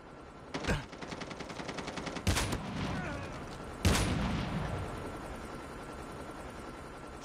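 Call of Duty Mobile gunfire: a rapid machine-gun burst followed by sharp, loud single shots at spaced intervals, with echoing decay and background rumble, near and punchy.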